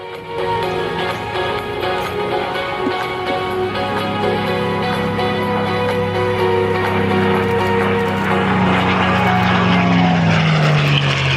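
A propeller fighter plane roars overhead at the 2015 Geneseo airshow, its engine drone steady and loud, the pitch sliding downward as it passes.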